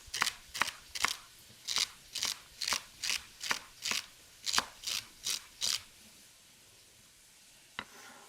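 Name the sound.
knife dicing celery on cutting board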